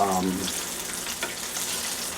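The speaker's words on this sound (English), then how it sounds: "frying it in coconut oil" Chicken sizzles and crackles steadily in hot coconut oil, close and fairly quiet, with a brief tonal sound at the very start and no talking.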